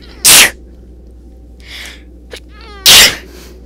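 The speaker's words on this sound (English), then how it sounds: "why have I been sneezing so much?" A person sneezes twice, loud and close, with a pause between that holds a few brief, faint vocal sounds.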